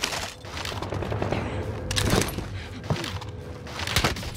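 Gunfire in the video game Warzone: a dense, busy mix of cracks and booms, some near and some distant, over a constant game background, moderately loud with no clear speech.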